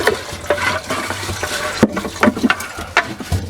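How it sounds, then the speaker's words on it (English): A stick stirs and pokes through waste in an RV holding tank, giving wet sloshing, squelching churns and soft knocks at close range in an uneven rhythm. "I'm gonna go down in here with a stick, and we're just gonna start stirring"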